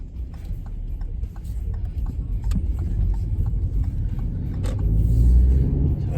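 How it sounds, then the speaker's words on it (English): Road traffic with cars queued at temporary traffic lights, heard as a continuous low engine rumble that swells slightly toward the end, steady and fairly close, with no talk. "Oh my god, is that all traffic?"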